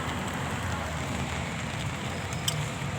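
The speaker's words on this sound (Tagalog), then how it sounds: "grabing lakas ng ulan" Heavy rain pours down in a constant, dense hiss with no voices.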